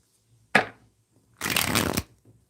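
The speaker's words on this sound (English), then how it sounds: "Okay, one more shuffle here." Tarot cards being shuffled by hand, a short riffle followed after a pause by a longer, louder half-second burst of card flutter, close and with no talk.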